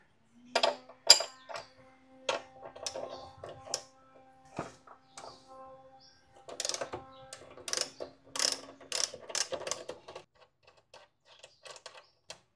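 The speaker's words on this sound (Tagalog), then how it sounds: "Gamit tayo ng 18mm na socket. Tapos, kontrahin natin ng wrench sa likod." A ratcheting 18mm socket wrench loosens the front axle nut on a Honda ADV 160 scooter, with bursts of rapid close metallic clicking separated by short pauses and occasional clinks of tools, without any talk.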